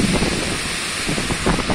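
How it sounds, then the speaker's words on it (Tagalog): Strong typhoon wind with heavy rain during Typhoon Uwan, a loud continuous roar and hiss of gusting wind and downpour buffeting the microphone, with no talk. "sabay sa malakas na ulan, ang malakas na hangin."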